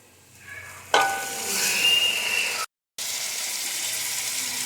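Tomatoes drop into browned onions in a pan, a sudden loud sizzle that holds steady with faint stirring scrapes, broken by a brief cut before the frying hiss resumes.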